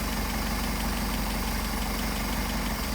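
Car engine fitted with Solex 44PHH carburetors idling steadily, a loud, continuous close-up rumble with even mechanical pulsing throughout.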